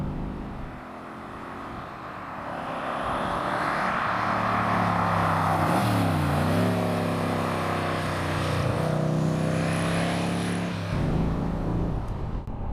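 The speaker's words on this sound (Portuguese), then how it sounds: "O motor é simplesmente adorável." A De Tomaso Pantera GT5 mid-engine car drives past, engine note rising and falling through gear changes, building from a distant hum to a loud roar and then fading again.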